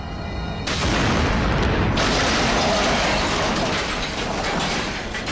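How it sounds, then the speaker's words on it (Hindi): A bomb blast in a Hindi action film, a sudden loud boom that swells into a sustained, heavy rumbling roar and holds at full strength to the end. "तुम्हारे इस बम में कितना दम है"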